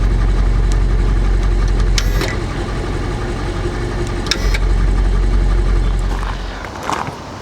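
A 2022 BMW M550i xDrive with the N63 TU3 twin-turbo V8 idles steadily, a deep, even rumble with faint mechanical ticks, heard up close and alone before it quiets slightly at the end.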